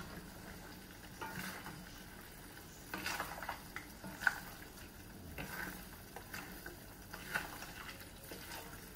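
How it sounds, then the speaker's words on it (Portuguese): Pasta with mussels and shrimp in spicy tomato sauce stirred in a pan, soft sizzling with scraping and occasional clinks of utensil on the pan, fairly quiet and close, no talking. "Mexe tudo muito bem."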